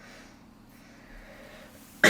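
After near silence, one sudden loud cough bursts out close by right at the end.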